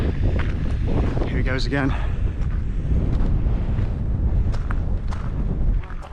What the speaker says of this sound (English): It's still quite windy.